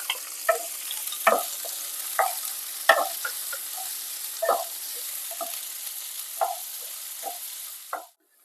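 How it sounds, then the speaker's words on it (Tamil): Onions and garlic sauté in a pan with a quiet steady sizzle, broken by repeated spatula scrapes and clinks at an irregular pace until the sound cuts off. "பொடியா கட் பண்ணி வச்சிருக்கிற வெங்காயத்தையும் இது கூட சேர்த்து நல்லா வதக்கிக்கலாம்"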